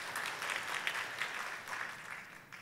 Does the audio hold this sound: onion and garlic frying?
no